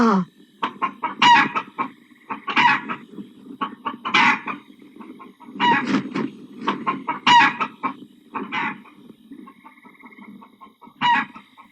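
Chickens cluck and a rooster crows in a village home at midnight, repeated bursts of loud, close calls coming in irregular clusters with short gaps between them and no talking.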